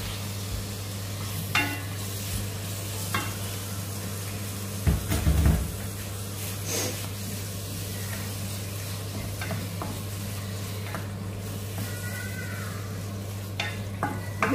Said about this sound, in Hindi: अभी टमाटर को अच्छी तरह पकाना है